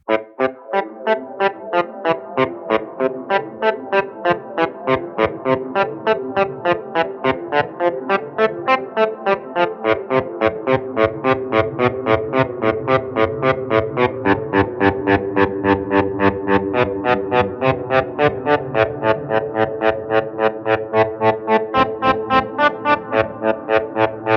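Distorted electric guitar through an Electro-Harmonix Pico Attack Decay pedal, fast evenly pulsing staccato notes, each swelling and cutting off, chorus-like shimmer, steady and loud for the whole stretch.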